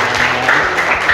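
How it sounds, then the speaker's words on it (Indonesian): Classroom audience applauding a student group after their presentation, a brief burst of mixed clapping from a small crowd nearby, continuous for about a second. "Tepuk tangan buat kelompok 2"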